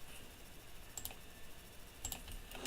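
Scattered sharp computer clicks and key presses during CAD work, a few faint isolated taps over a quiet background with no speech.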